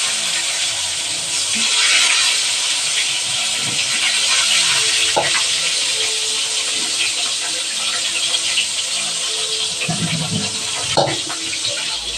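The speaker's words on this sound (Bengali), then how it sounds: "বেগুনটা ভেজে নিই হয়ে যাবে" Eggplant slices fry in hot oil with a loud, steady, close sizzling hiss throughout, broken by a few soft knocks and clinks.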